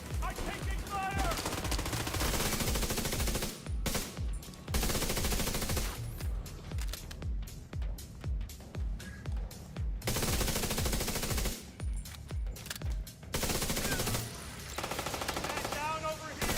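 Rapid automatic gunfire in The Division 2 video game: dense bursts of loud shots in long strings, broken by a few short pauses, with a fast, dense firefight filling the whole stretch.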